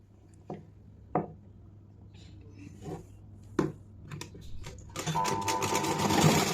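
A sewing machine stitches a jumpsuit button placket. Short, sharp clicks and clunks of handling come first, then a loud, continuous mechanical whirr of rapid stitching near the end.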